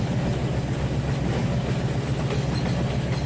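Train rolling along track in Trainz 2019, a steady loud rumble with rhythmic clickety-clack over the rails, continuous and close throughout, without talking.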